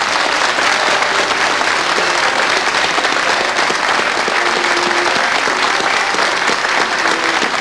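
Sustained applause from a tango tribute show audience honoring actress Olga Zubarry, dense, steady and loud clapping throughout without pause.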